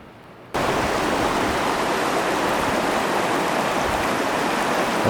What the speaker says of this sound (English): I think this is the South Fork of the Merced River